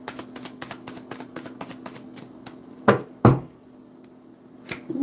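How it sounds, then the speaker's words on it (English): A thick deck of tarot cards is shuffled by hand in a quick train of soft riffling taps, followed by two louder thumps of the deck being squared, then a brief pause and more handling near the end. "That's one of the harder ones to shuffle. It's very thick."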